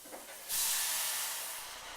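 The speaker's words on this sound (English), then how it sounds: "I'm just putting in about that much water, and I'll let them boil, simmer." Water poured into a hot pan of browning squash bursts into a loud, steady sizzling hiss that holds and slowly fades as it simmers, with no voices.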